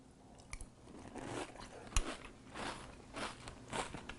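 Crunching and chewing of Kellogg's Pumpkin Spice Frosted Flakes corn cereal softened in milk, close and moist, with irregular bites and a sharper crunch midway, no talking.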